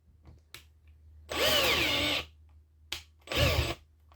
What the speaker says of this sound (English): Get the right one, and let's drill some holes.